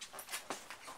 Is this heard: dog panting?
yes